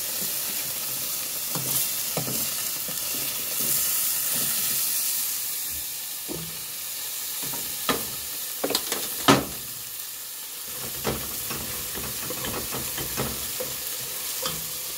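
Hilsa fish frying lightly on both sides in oil in a pan, giving a steady, close hissing sizzle with scattered sharp clicks and scrapes from stirring, and no talking.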